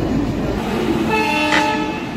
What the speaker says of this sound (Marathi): प्लॅटफॉर्म क्रमांक 2 वर रेल्वे आलेली आहे.